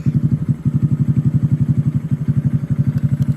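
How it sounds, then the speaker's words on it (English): Air compressor running to inflate the air suspension on a bagged Honda Grom motorcycle, a loud steady rapid chugging pulse that holds close and continuous throughout. "Then if we flip the switch, it should air up the bike."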